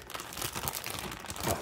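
Stiff plastic packaging of a Bandai Pokémon figure crinkling and tearing close by, a brief continuous burst of crackle.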